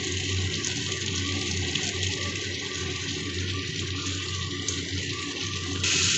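Water pours steadily into a pan for fish curry, already seasoned with salt, sugar and garam masala, making a continuous splashing gush that stays even and close throughout, with no talking.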